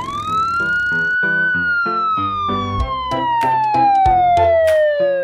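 A police car siren sounds as one long, loud, steady wail that slowly glides upward and then falls, close and dominant, with scattered rhythmic knocks beneath and no voices.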